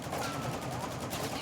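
Rapid automatic gunfire from an iron-sight weapon build in a video game rattles in a dense, steady burst for about a second and a half, loud and close, with no pause between shots.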